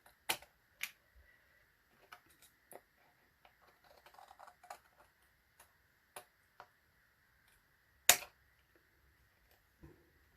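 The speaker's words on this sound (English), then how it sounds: "And then with a pair of scissors" Scissors snip through card on a quiet craft table, giving a few sharp, close clicks and cuts scattered irregularly with soft handling noise in between.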